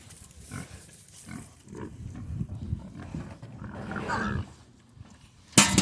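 Pastured pigs grunt and snuffle in a series of low, uneven bursts up close, with a louder drawn-out squeal near the end, then a sudden sharp knock at the close; no talking.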